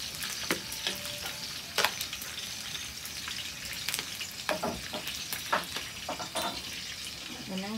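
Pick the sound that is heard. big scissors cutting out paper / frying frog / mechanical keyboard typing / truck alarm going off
frying frog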